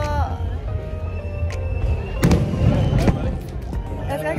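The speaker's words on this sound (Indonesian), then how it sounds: "Ini kembang apinya nih. Kembang api." New Year fireworks in Singapore crackle and pop in a few sharp bursts, loudest around the middle, amid a dense, noisy crowd with people talking nearby.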